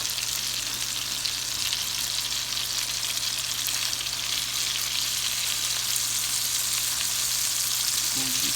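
Steak sizzles steadily in a pan while butter is spooned over it, a dense, continuous frying hiss with a low hum underneath and no talking, ending in a few soft scrapes.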